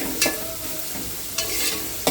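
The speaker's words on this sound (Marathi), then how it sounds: "हा कांदा तर लाल होईपर्यंत परतवून घ्यायचा आपल्याला" Chopped onion sautés in hot oil in a pan, giving a steady close sizzle broken by a few sharp scraping stirs of a spatula.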